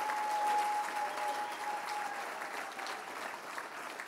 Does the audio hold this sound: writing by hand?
no